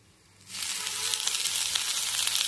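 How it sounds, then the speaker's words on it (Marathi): Chopped spinach drops into a pan of onion browned with garlic, cumin and chili, setting off a sudden loud sizzle that swells and keeps hissing steadily with faint crackles. "आता आपण यात हा चिरलेला पालक सोडून घेऊयात।"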